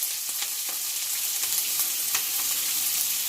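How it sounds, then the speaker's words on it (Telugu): Onion pieces fry in oil in a pan, giving a dense, even sizzle with scattered pops and stirring, close and unbroken, no voices. "ఇప్పుడు ఉల్లిపాయలు పచ్చివాసన పోయి కొద్దిగా కలర్ చేంజ్ అయ్యేంత వరకు ఫ్రై చేయండి."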